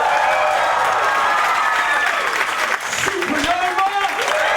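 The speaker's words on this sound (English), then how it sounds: "could we have a cheer for all of our bands" An audience at a battle of the bands claps and cheers loudly and continuously, with a voice speaking over the applause.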